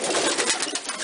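Pet pigeon cooing close by in a loft, a soft continuous throaty burble lasting about a second, loud and alone with no talking.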